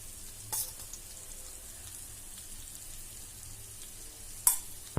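Spice masala sizzling in hot tempering oil on a low gas flame while making Kolhapur-style bhadang, a steady soft frying hiss throughout with two brief sharper crackles, no talking.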